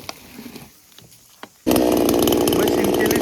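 A petrol chainsaw, carried along for cutting wood, bursts into a loud steady roar after a quieter stretch of faint background noise and a single knock, running close and continuously.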